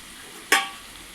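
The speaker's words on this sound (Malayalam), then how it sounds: "നമുക്ക് തോരനൊന്ന് ഇളക്കി കൊടുക്കാം. നൊത്തോലി തോരൻ നമുക്ക് ഇളക്കി." A single quick scrape-and-sizzle as anchovy (nethili) thoran is stirred in a pan, a short bright burst that fades fast, with nothing else audible around it.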